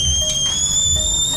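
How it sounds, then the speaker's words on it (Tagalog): A cooking pot whistles steadily on the stove, a high continuous tone joined by a second pitch, loud and close and holding for the whole stretch. "Ayan, sumisipol na."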